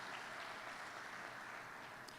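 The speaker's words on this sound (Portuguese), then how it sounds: "Aplauda o nosso Deus" A church congregation claps in praise during a worship service, a faint, steady wash of hands that stays even throughout, heard at a distance with no voices over it.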